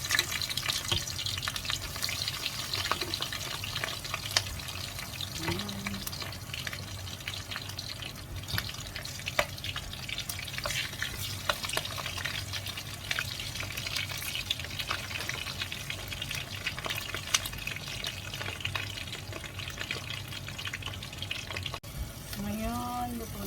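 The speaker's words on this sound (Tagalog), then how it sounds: "maglalagay na tayo ng ating eggplant dahil mainit na yung ating kawali" Eggplant frying in a hot pan, a steady dense sizzle that continues throughout, close and even, with faint clinks now and then.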